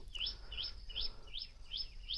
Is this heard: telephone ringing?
no